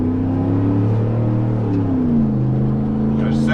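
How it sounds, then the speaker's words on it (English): A 2003 Dodge Ram Hemi pickup truck revs up in first gear, its engine drone rising and then shifting pitch, loud and steady close by, with a brief scratchy noise near the end. "We're gonna go through the gears manually. We're in first now."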